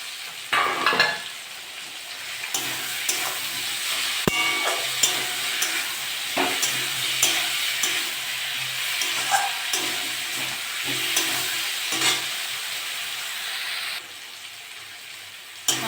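Ginger-garlic paste fries in a pan for a Bengali prawn and vegetable chorchori, a continuous close sizzle with intermittent scraping stirs and a few sharp clicks of a utensil against the pan; no talking.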